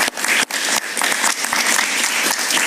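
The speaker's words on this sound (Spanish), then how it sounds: "Un aplauso para Urdaneta." Studio audience at a talk show applauding, a loud close burst of dense clapping that carries on without a break.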